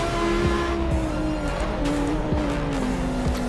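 A Ferrari race car engine at the Macau street circuit drones loudly and continuously, its pitch shifting with gear changes, heard from inside or close to the car.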